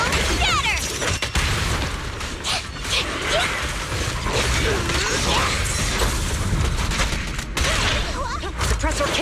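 Sustained bursts of gunfire from the Suppressor K-22 in the video game Zenless Zone Zero, loud and continuous with mechanical clatter, crashes and impact effects layered throughout.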